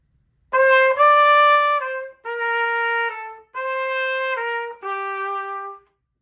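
A trumpet plays a clear, close phrase of sustained tones grouped in pairs, four slurred two-note groups separated by brief breaks, alone without any talking.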